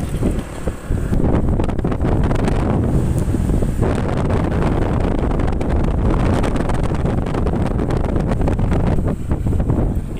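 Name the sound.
Honda PCX scooter test ride with wind noise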